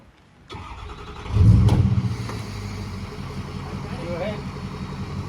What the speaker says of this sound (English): now Derek, you pull the truck up